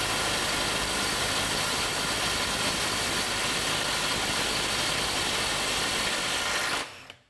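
Cordless impact wrench driving a fastener, hammering continuously at close range for several seconds before stopping abruptly.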